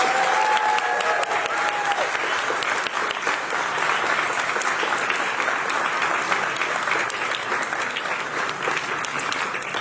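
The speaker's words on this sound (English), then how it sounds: "can I have another big round of applause?" An indoor crowd at a volunteer appreciation event claps in a loud, steady round of applause lasting about ten seconds without letting up.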